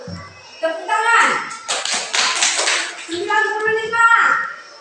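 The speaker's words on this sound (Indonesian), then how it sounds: "Tepuk tangan." Schoolchildren in a classroom clap their hands in bursts, with a teacher and kids talking and calling out between and over the clapping, close and lively.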